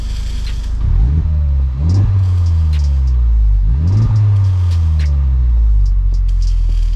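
Stock exhaust of a 2021 Honda Civic Type R FK8 being revved, two sharp rises in pitch that fall back toward idle, loud and close with a steady burble between the revs.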